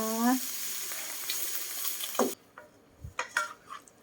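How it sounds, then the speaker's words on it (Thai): Kale and crispy pork being stirred in a frying pan: steady sizzling with scraping and stirring strokes, then a cut to quieter clatters of the utensil against the pan. "คนเลยจ้า คลุกเขาเข้ากันเลย"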